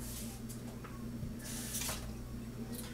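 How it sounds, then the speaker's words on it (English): Water is poured into a slow cooker pot to rinse out seasonings, a faint, brief splashing trickle heard close up with no talking. "Doing a little extra water to get those seasonings out of there."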